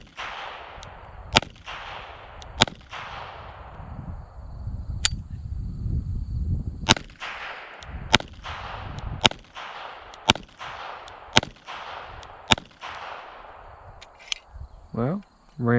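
An EAA Girsan 1911 pistol firing aftermarket magazines loaded with lighter handloaded reloads: about a dozen sharp, loud shots at uneven intervals of roughly one to one and a half seconds, with outdoor ambience between them.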